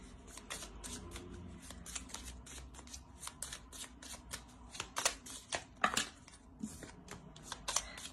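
Oracle cards are shuffled and drawn in quick, quiet runs of crisp riffling snaps and flicks, with a few sharper slaps standing out near the middle.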